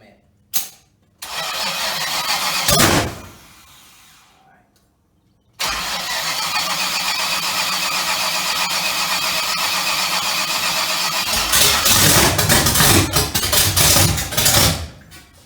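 A Chevrolet Nova engine being started on choke: a brief crank and cough, a second longer crank that catches, then a steady loud rough idle that swells with throttle blips near the end, with voices in the background.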